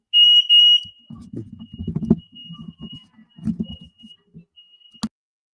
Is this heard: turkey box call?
no